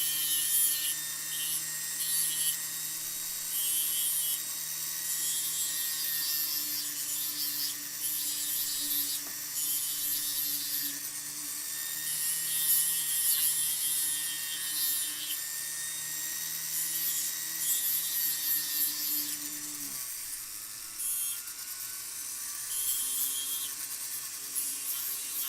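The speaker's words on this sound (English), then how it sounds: "So what's nice about these sanding discs, they make really, really quick work of it." Power sander with sanding discs working a wooden box clasp, a continuous harsh whirring grind that holds steady for a long stretch, then shifts pitch near the end.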